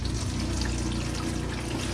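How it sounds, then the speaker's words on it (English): Hot water runs from the shower in a Ford Transit van conversion, a steady close hiss of spray with a low pump hum beneath it. "We're just testing the shower to see if hot water is coming out of here."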